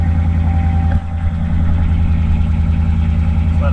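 A car engine runs at a steady idle after starting, a loud continuous low hum with a slight dip near the first second, close by with no talk over it.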